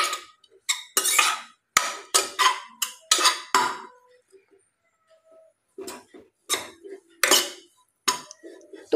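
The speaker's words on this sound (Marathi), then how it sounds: "आता आपण या गव्हाला मस्त असं मंद आचेवर छान परतून घेणार आहोत।" Wheat grains being roasted in a pan on a low flame for kheer, with ghee, heard as bursts of close, bright rattling and scraping clatter from the pan, broken by short quiet pauses.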